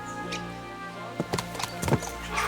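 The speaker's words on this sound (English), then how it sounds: "Let's really spur these horses on, eh?" Horse hooves clip-clopping on a road in the medieval game Kingdom Come Deliverance 2, a steady beat with a few louder hoof strikes and a faint whinny toward the end, no talk over it.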